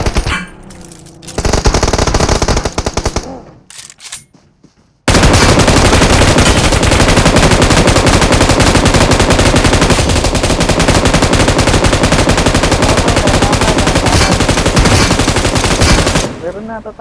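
Loud, rapid machine gun fire in a shooting game rattles in short bursts at first, then roars in one long, sustained automatic stream before cutting off abruptly near the end, with no talking.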